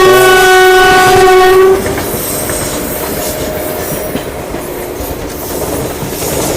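Indian passenger trains running side by side just outside New Delhi, with WAP-7 and WAP-4 electric locomotives: a loud, close, sustained multi-tone horn blast, then a steady rumble and clatter of wheels on track, with no talk.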